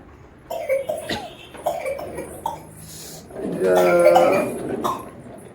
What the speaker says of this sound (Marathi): खोका येतो तुला